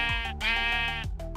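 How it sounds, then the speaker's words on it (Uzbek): A sheep in the Minecraft video game bleats twice in quick succession, loud and close, with the game's characteristic nasal, wavering cry. "Qo'ylarni ko'ryapman, ularni darhol chopish kerak."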